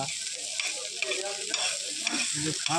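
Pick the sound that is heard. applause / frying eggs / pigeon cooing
frying eggs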